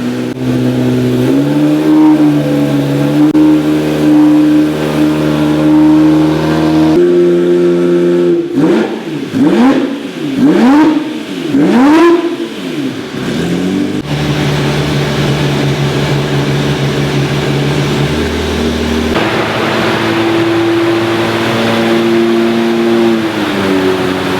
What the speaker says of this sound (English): now we're balancing the left and the right banks together at 1500 RPM